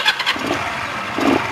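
A Honda CB125T motorcycle that is not running right cranks and catches in two brief bursts of engine noise, close and fairly loud.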